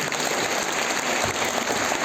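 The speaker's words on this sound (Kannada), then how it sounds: "ಅದಕ್ಕೊಂದು ಜೋರಾದ ಚಪ್ಪಾಳೆ ಬರಬೇಕು" An audience at the inauguration of a Jain religious education camp in Belagavi bursts into brief, dense applause, steady and fairly loud for about two seconds.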